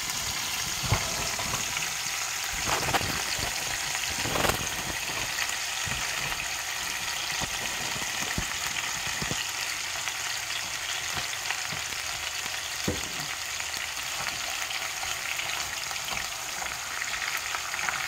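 Ground meat fries in its own grease in a pan, a steady close sizzle and crackle that runs throughout, with occasional scraping stirs and no talk.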